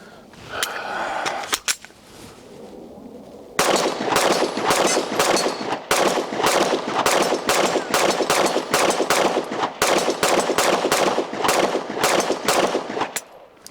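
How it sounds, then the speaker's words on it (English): Rapid, steady pistol fire from a Gen6 Glock 17 shot at steel targets, loud and close, with dozens of sharp reports in quick succession after a few spaced opening shots. "I'm having to shoot over the steel to get it to hit."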